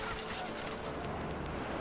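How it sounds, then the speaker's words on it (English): Panicked geese honk in a dense, continuous clamor under gusting wind in the video game What Remains of Edith Finch, a steady wash of noise throughout. "panicked geese appeared and quickly went"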